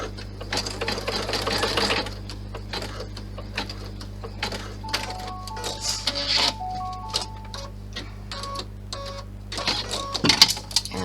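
A sewing machine stitches a satin stitch edge on a purse, running in short bursts of steady rapid clicking whirs that stop and restart, close and fairly quiet with no talk.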